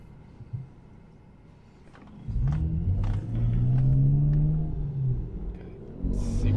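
A Tesla on Autopilot pulls away at a green light and gains speed, a low rumble swelling into a steady smooth drone with faint clicks above it.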